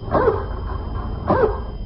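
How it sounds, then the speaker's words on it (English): A dog gives two loud, close barks about a second apart, each one short and sharp. The barks come from an old-time radio drama. "That's my dog, Tige."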